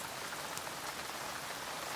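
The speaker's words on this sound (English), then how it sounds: "It's raining a very lot." Heavy rain pouring down outside, a dense, even hiss of drops striking surfaces that stays constant throughout, with no voices over it.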